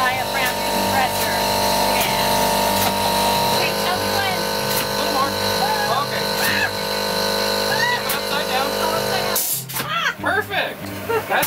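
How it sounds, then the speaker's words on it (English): An air-actuated diaphragm compressor runs in a pottery garage with a steady, loud mechanical hum and hiss, someone talking over it, and the noise drops briefly near the end. "Now that's an air actuated diaphragm compressor."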